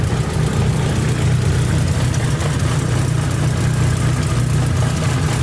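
A car engine fitted with a rebuilt Precision turbo idles loud and close, a steady continuous rumble with no pauses or voices.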